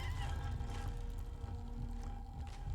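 A cat meows from inside a vent in the video game Impostor Factory, with a couple of close, tonal cries over a steady low hum from the game's ambience.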